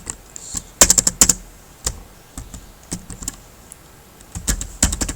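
Typing on a computer keyboard while writing C++ code in Dev C++: close, irregular key clicks in short bursts and scattered single strokes, with no talking.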